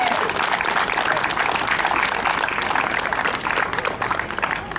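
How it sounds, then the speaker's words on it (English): A crowd outdoors at a volunteer picnic for an animal care foundation claps for stock car driver Robbie Henry, dense, continuous applause close by that tapers slightly toward the end, with faint voices mixed in. "So let's give a big round of applause to Robbie Henry,"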